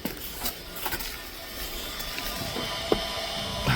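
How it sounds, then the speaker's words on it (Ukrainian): Electronic parking brake motor on a Mercedes Sprinter 907/910 whirs faintly as it retracts the rear brake pads in service mode, a quiet, steady mechanical hum with small clicks and a sharper tick near the end. "Чуєте звук? Це воно відводить колодки."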